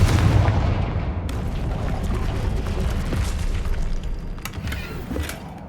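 The Confringo fire spell from the Hogwarts Legacy video game goes off with a deep boom, then a long rumbling roar and crackling debris that fades slowly over several seconds.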